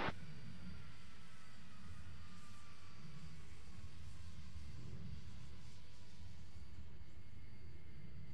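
A fixed-wing airplane rumbles on the runway during takeoff, a steady low engine roar with a faint rising whine, heard from a distance and fairly quiet throughout.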